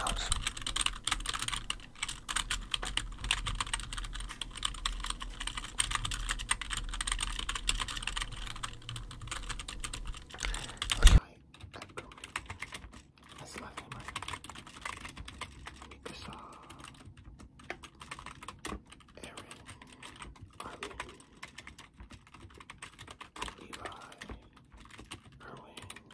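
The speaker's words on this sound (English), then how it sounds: "You notice the random keyboard sounds." A computer keyboard is typed on close up in quiet, steady runs of soft key clicks, after a louder stretch of background noise that ends abruptly.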